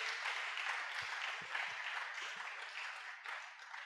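A church congregation at a thanksgiving service applauds together, a dense and steady wash of many hands clapping that fades slightly toward the end, heard from some distance with no voices above it.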